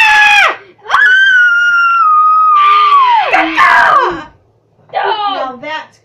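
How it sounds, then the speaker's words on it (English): A boy screams loudly and shrilly at close range in long wavering cries, with a short break and then a final burst. "Your brother screams like a girl"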